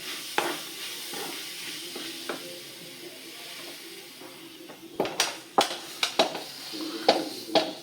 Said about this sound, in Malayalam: സവാളയും തക്കാളിയും പച്ചമുളകൊക്കെ വഴറ്റി വന്നിട്ടുണ്ട് കേട്ടോ. ഇനി ഇത് ചിക്കനൊക്കെ ചേർക്കുക.